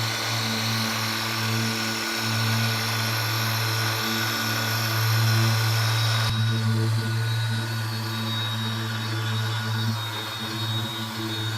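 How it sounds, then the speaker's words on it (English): A Ryobi PBF100 dual action polisher runs steadily and loudly throughout, a constant droning whine with a strong low hum and bright high overtones, with no talk. "the polisher itself is pretty smooth in your hand, but it is, in my opinion, excessively loud."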